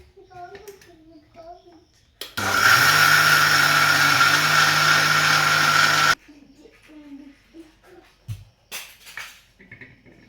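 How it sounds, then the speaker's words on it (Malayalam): A mixer grinder grinds rice for appam batter in one loud, steady whirring run of about four seconds, with someone talking before and after it. "നമുക്ക് അരി മാത്രം അരച്ചെടുക്കാം"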